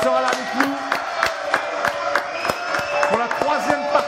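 A French TV studio audience claps in a steady rhythm, sharp regular hand claps mixed with loud cheering and shouting voices.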